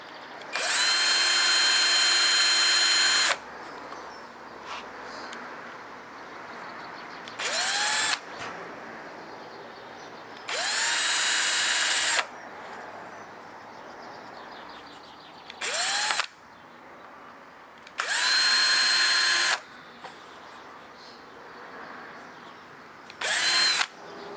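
Power drill boring holes in a wooden stitch-and-glue kayak in a garden, several loud separate bursts of high whirring, each a few seconds long, with quieter pauses between them.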